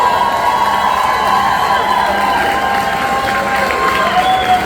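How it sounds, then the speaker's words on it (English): A loud crowd at a political rally in Texas's 15th district cheers and applauds without pause, with whoops and shouts rising over a dense, continuous roar of clapping. "Round of applause for our next Congresswoman, Michelle Vallejo."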